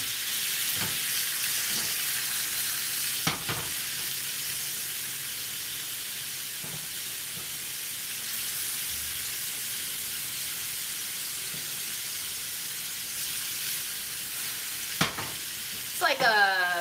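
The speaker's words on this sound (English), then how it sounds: "it's also gonna help us break down the bittermelon a little bit" Bitter melon fries in a pan with a steady, broad sizzle throughout, punctuated by a few sharp clicks and clatters, moderately loud and with no talk over it.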